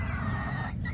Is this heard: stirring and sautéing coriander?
no